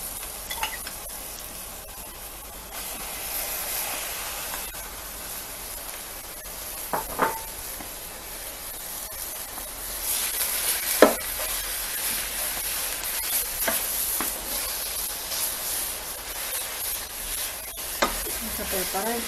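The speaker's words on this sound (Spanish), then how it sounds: "Entonces la ponemos sin aceite porque el choricito tiene mucha grasita y con su propia grasita se va a freír." Chorizo frying in its own rendered fat in a pan with no added oil, a steady soft sizzle and hiss throughout with occasional stirring scrapes and clicks, close by with no talking.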